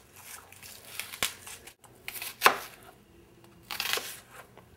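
A knife quickly chops half an onion on a board, making a few sparse, quiet, crisp chops with pauses between them.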